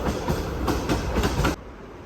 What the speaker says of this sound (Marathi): ट्रेन जात आहे.